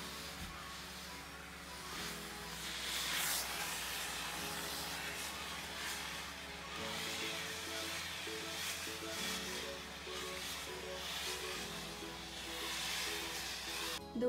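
A Kitfort KT-922 steam station steams clothes and curtains vertically, releasing a steady broad hiss over a low hum that swells and eases for the whole stretch.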